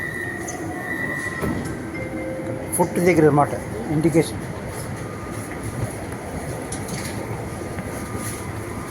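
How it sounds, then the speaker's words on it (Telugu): A driverless metro train gives a brief wheel squeal and rumble midway through, under someone talking steadily throughout. "ఇది డ్రైవర్లెస్ ట్రైన్స్ అనమాట"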